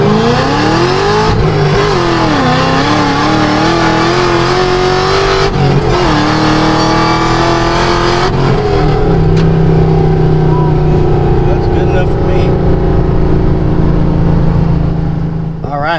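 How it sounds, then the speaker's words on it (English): A Chevrolet Camaro ZL1 tuned to about 940 hp, running E85, pulls hard in second gear from roughly 30 mph, engine note climbing loudly and steadily before easing off, with talk over it. "We're going to do a second gear pull for Jason here so I can send him some data."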